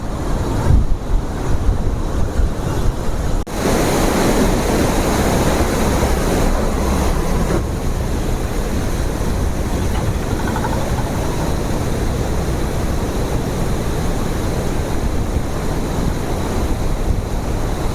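Water rushing through the open lock gates of Durgapur Barrage, a loud, continuous roaring wash with heavy wind buffeting the microphone throughout.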